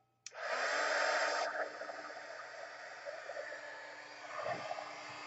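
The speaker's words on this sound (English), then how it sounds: "And get the heat gun." A heat gun switches on abruptly and blows a loud, steady rushing airflow for embossing a stamped image, easing slightly in level after about a second and running on alone to the end.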